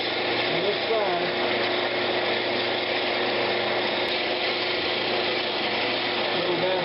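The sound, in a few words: sanding a Brazilian cherry lidded box on a wood lathe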